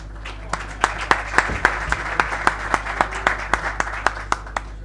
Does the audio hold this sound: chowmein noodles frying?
no